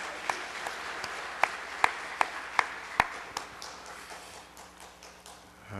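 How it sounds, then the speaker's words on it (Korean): A Sunday church congregation applauds again for the children: a run of about eight crisp, rhythmic unison claps that grow louder, then loosen into softer scattered clapping and room noise. "한 번 더 박수합시다."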